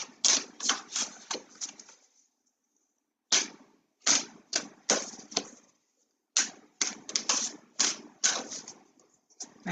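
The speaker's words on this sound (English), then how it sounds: "I tend to just hear the word stop when I'm shuffling and doing these cards" A deck of cards being shuffled by hand, heard up close in three bursts of rapid riffling clicks with short silent pauses between them.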